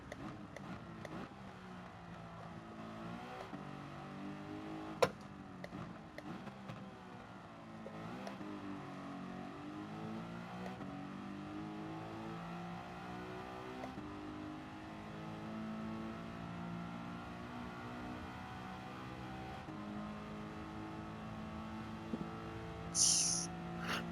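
Engine of a Mazda RX-7 racing in Gran Turismo 7, a steady high rotary-style drone rising and falling through gear changes over about twenty seconds, with a brief sharp click early on and faint talk now and then.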